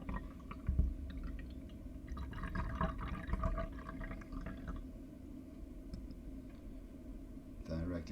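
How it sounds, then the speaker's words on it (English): Brewed Gyokuro and Karigane green teas poured into glasses, a soft liquid trickle and splashing running steadily at close range beneath a low background hum. "we're gonna pour these two teas"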